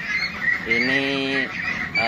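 Meat ducks raised for fattening give a raspy, honking quack that holds for close to a second, with more faint duck calls and farm noise around it and no one speaking.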